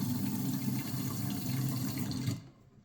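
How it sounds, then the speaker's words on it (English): A kitchen faucet turned on runs in a steady, full hiss and splash of water for a couple of seconds, close and fairly loud, then cuts off abruptly, leaving quiet; no one speaks. "So then we turn the water on."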